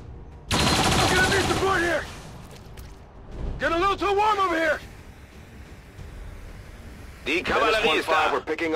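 Turret gunfire in XCOM 2 comes as loud bursts of rapid automatic fire separated by pauses, with voices talking over and between the volleys.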